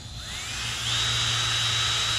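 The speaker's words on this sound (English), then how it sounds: "I'm gonna be grinding these initials out of the concrete here" A power grinder cuts into a newly poured concrete driveway to remove carved initials, its steady high whine rising in pitch as it spins up, then holding loud and continuous over a low rumbling hum.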